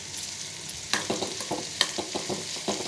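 Drumstick pieces frying with onions in a pan sizzle close and steady, broken by sharp scraping stirs at irregular intervals, with no voices.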